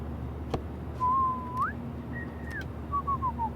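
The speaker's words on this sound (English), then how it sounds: "Do you mind not whistling?" A single person in the video game Life Is Strange whistles a short, simple tune of a few sliding notes, faint against a quiet background hum.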